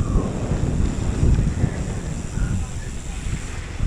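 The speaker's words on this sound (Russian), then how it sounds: "Ветер сильный." Strong wind buffets the microphone in gusty, rumbling bursts, loud and low, with a faint watery wash of waves behind it, on the Dniester estuary shore near Odesa.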